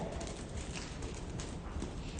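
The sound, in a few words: horse hooves in riding arena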